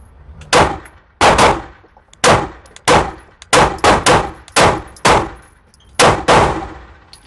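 Ten rounds fired from a Canik Mete MC9 compact pistol at 10 yards on a shooting range: sharp, loud, evenly spaced cracks with short decays, close by and alone without talk.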